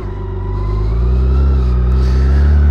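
Motorcycles race along State Route 500, their engines rising into a loud, steady revving roar that swells over a few seconds and stays close and strong, with no talk over it.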